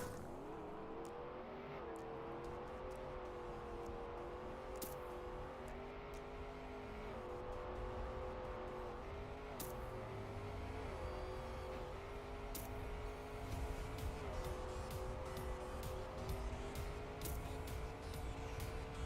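Desert car in a Trackmania race, its engine droning steadily with a whining pitch that rises and dips through gear changes and turns, plus scattered ticks and brief tire squeals, loud and continuous throughout.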